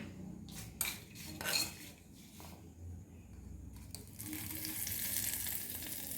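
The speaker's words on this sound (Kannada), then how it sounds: "ಇದಕ್ಕೆ ಒಗ್ಗರಣೆನ ಹಾಕೋಣ" A few clinks and stirring noises, then a sudden loud sizzle as spices hit hot oil, crackling steadily to the end.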